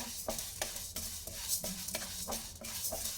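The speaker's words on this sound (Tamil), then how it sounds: "அடுத்தது நம்ம கடலைப்பருப்பை லைட்டாக சூடு பண்ணிப்போம்" Chana dal being dry roasted in a pan for kuzhambu powder, stirred in steady scraping sweeps about every half second, with a faint continuous sizzle underneath, close and alone.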